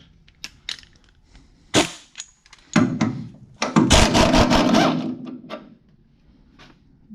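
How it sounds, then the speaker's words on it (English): Bolts of 14 mm come off the rear suspension of a 2015-or-later S550 Mustang with a power impact tool, in sharp rattling bursts of varying length, close and loud, with quiet gaps between them. "Then we're gonna have to pull the bolts that are already installed."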